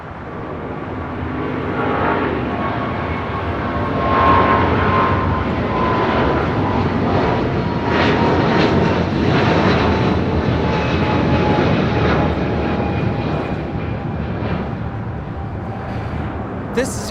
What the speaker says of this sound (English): This is United Airlines 1635 taking off to Washington Dulles on a 777-200.